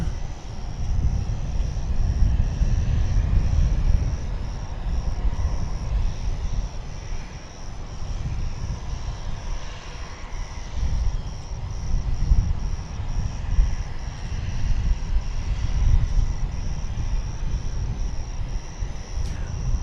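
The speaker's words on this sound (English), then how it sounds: "here's that national cargo aircraft that we spoke of just a few minutes ago" A National cargo aircraft at DFW Airport at dawn: a steady, broad low engine roar that swells and eases slightly over about twenty seconds, heard from a distance with no talking.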